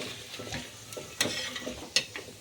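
Onion and whole spices frying in oil in a pan, a faint sizzle with a few sharp scraping and stirring clicks.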